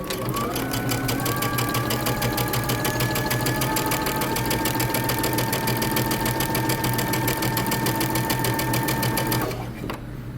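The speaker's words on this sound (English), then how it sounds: "I am going to backstitch at the beginning of this dart" Close and loud, a sewing machine backstitches and sews a bust dart on a shirt dress, its needle hammering in a fast, even rhythm for nearly ten seconds before cutting off.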